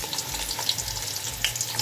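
Four chopped onions dropped into hot oil for khichri, giving a close, dense crackling sizzle that flares briefly with small bursts as they settle, with no talking.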